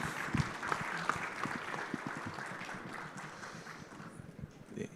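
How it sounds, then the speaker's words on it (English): An audience at the Africa Coffee & Tea Expo 2026 opening ceremony gives a steady round of applause, a dense continuous patter of clapping that fades slightly toward the end. "A round of applause one more time."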